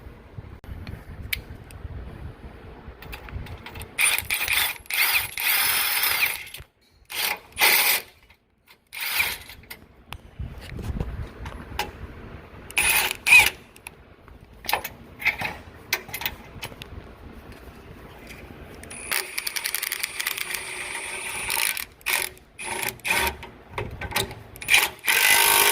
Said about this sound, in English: I'm gonna hit these bolts with an impact